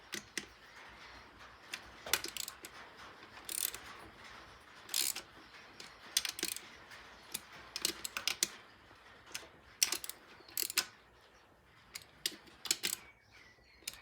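Bolts being wound into an MT-82 manual gearbox during a rebuild make quiet, irregular ticking and clicking in close bursts, continuing steadily with brief pauses.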